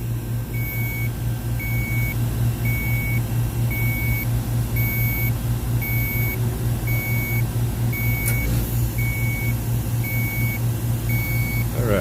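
Inside a house, a detector with fresh batteries gives a faint, regular beep about every second for the whole stretch, over a steady low hum.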